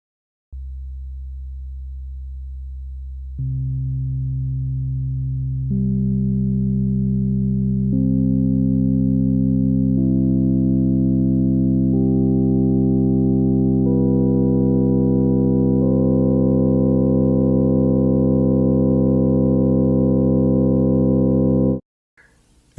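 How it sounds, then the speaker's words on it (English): A steady electronic tone that grows richer in steps as pure sine-wave harmonics stack on top of the fundamental, then cuts off abruptly. "Here's what the harmonics sound like all together."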